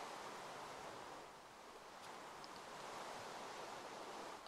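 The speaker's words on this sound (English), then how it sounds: "And they have rain every like 5 minutes." Artificial rain falls inside an indoor water park, a soft, even hiss of spray and droplets filling the hall steadily with no talk over it.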